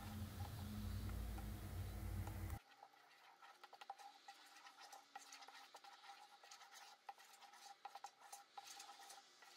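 Semolina halva being stirred and roasted as milk is added bit by bit: a loud sizzling burst at first, then quieter, irregular scraping and clicking of a spoon against the pan.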